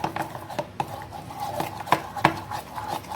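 A spoon stirs lemon and ghee into jalebi batter with a rapid run of clinks and scrapes against the bowl, close and fairly loud, with no speech.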